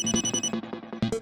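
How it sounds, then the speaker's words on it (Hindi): A telephone rings indoors in a sitcom home, giving a repeated electronic ringtone in short pulses at moderate level with no speech. "दया का फोन आ गया।"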